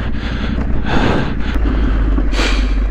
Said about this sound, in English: I do apologise for the heavy breathing once again.